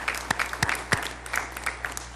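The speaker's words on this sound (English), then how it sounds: "let's give all of those outstanding athletes an applause for a job well done." Audience applause for high school athletes at a Board of Education meeting, a steady patter of many clapping hands with a few sharper claps standing out, moderately loud and continuous.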